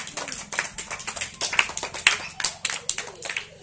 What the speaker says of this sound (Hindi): जोरदार ताली बजाओ सभी लोग।